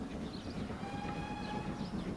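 Trains run in the Transport Fever video game, a faint, steady rumble of rolling rail cars with thin squealing tones drifting over it, heard from a distance with no one speaking.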